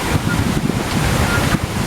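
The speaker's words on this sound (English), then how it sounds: "Waterfall." A waterfall rushes along the Kilimanjaro Safari ride at Disney's Animal Kingdom, a steady, loud, broadband wash of water with wind buffeting the microphone and no pauses.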